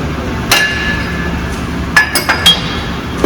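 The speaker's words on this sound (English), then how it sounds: "There's a ratchet strap." Metal clinking from a ratchet strap being handled: a sharp clink, then a quick cluster of three or four bright metallic taps, close by over a low steady rumble, with no talk.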